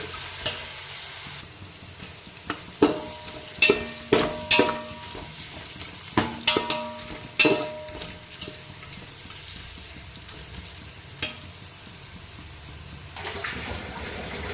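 Carrot and beetroot pieces frying in a pan for veg biryani, a soft background sizzle broken by clusters of loud spatula knocks and scrapes in the middle, quieter frying before and after.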